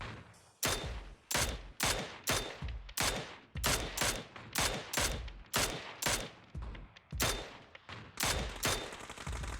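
Rifle tap-fired at targets in PUBG: sharp, loud shots come in quick clusters, about a dozen cracks spread evenly across the stretch with brief pauses between groups, no voices.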